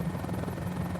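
A Mini-500 helicopter flies in a flight simulator game, giving a steady, loud, droning rotor buzz that runs unbroken throughout.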